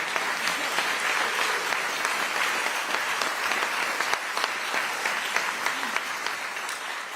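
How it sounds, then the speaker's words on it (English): A large audience at a city's State of the City address breaks into sustained applause, a dense, even wash of clapping that holds steady for several seconds with no talk over it. "Let's have a round of applause for everyone in Development Services."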